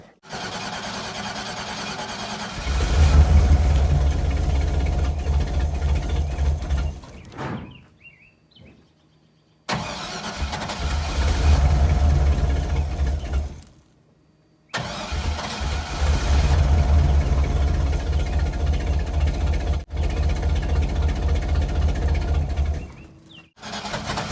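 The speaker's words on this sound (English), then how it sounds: "I'll put you guys over here by the muffler and we will get a cold start." A Chevrolet Cheyenne truck with an exhaust leak, heard up close by the muffler, cold starts in repeated attempts: three loud bursts of cranking and rough running, each cut off by short silences.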